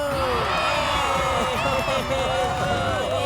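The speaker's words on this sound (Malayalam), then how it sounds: "ശിവയ്ക്ക് വേണ്ടി എല്ലാവരും ഒന്ന് നന്നായിട്ട് കൈയടിക്കൂ" An audience cheering and whooping for a contestant at an animated archery competition, a loud, continuous crowd roar with excited shouts and chatter throughout.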